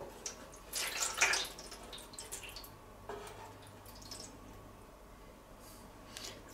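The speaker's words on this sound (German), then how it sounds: "in die Schale soll man auf alle Fälle Wasser reintun" Water poured into the drip tray of a Severin PG8560 electric table grill: a brief, close splashing trickle that peaks early, then fades to faint dribbles over a quiet room hum, with no talking.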